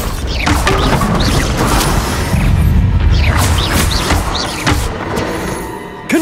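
A Bombarda spell explosion in the video game Hogwarts Legacy, a loud booming blast with crashing debris amid combat effects, sustained over several seconds with mechanical clanks.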